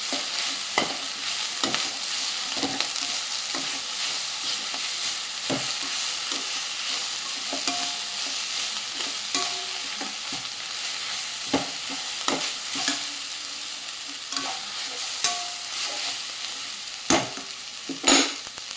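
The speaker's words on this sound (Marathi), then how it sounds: "आपण थोडी कालून घेऊया आणि मग आपण बाकीची भाजी टाकूया" Green chickpea (harbhara) bhaji stirred and frying in a pan: a steady broadband sizzle runs throughout, broken by repeated sharp scrapes and clacks of the spoon against the pan, growing busier toward the end.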